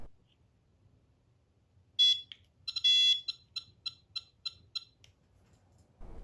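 An electronic device being factory reset gives a sharp beep, then a longer tone, then a quick run of about six short, evenly spaced beeps, close and clear over a quiet background.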